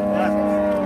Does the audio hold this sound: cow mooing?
yes